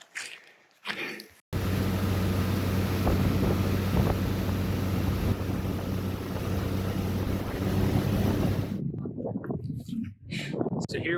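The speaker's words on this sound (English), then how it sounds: "here we are back at the beach we found" Wind and waves sweep a lake beach at Harrison Lake in British Columbia as a loud, continuous blustery rush that buffets the microphone, with voices heard briefly at the start and end.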